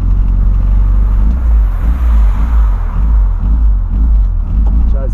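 A Volkswagen Voyage GL engine revs hard up close, a loud, heavy low rumble that swells and pulses steadily for the whole stretch.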